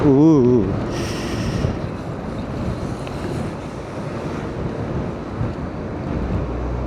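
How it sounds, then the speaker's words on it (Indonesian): Strong gusting wind roars steadily into the microphone on a road in Majalengka, a broad, continuous rumble with a brief warbling tone at the very start and no talk. "Angin ini bener-bener ya, Majalengka tuh memang kota angin ya"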